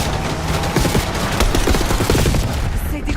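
Rapid bursts of automatic gunfire and booms from a Call of Duty Black Ops 6 firefight, loud and dense throughout, with a shouted voice mixed in.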